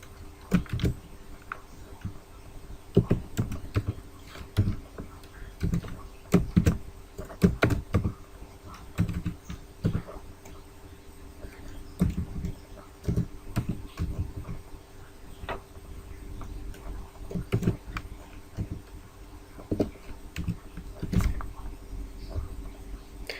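Computer keyboard typing a file name, a near, irregular run of crisp key clicks in bursts with short pauses, heard alone over faint background hum.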